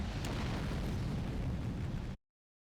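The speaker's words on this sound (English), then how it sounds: "Especially while this place is exploding." A loud, sustained roar of an explosion in a video game as a reactor area blows up, a dense rumbling blast lasting about two seconds before cutting off abruptly to silence.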